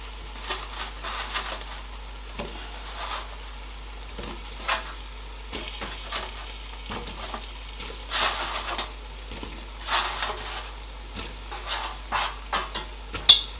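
Plantain going into a simmering Nigerian vegetarian stew made with vegetable stock: soft sizzling and a quiet, bubbling cook with scattered light stirring clinks and knocks against the pot, heard close with no voices.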